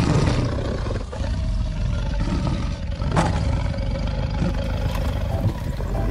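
A lion roars in a deep, drawn-out rumble lasting several seconds, loud and close, with a faint engine-like drone underneath and no talking.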